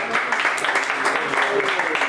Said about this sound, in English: We got to give a little round of applause.